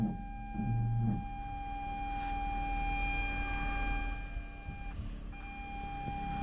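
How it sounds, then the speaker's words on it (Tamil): A car's reverse parking sensor sounds one continuous unbroken tone that holds for several seconds, breaks briefly and resumes, close and clear over a low engine rumble. "கண்டினியூஸாக பீப் அடிக்குது."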